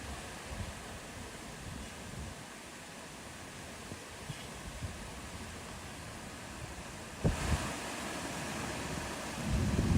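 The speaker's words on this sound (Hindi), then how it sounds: "आवाज़ें आने लगी बादल के गरजने की" Low thunder rumbling steadily through a wash of rain-like noise, soft and distant, with a stronger roll late on.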